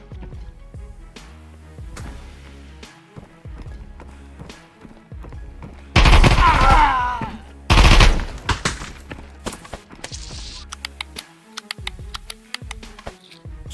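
Gunshots crack out during a firefight, with sporadic single shots and short bursts over low rhythmic thuds, including two loud, dense blasts of fire close by.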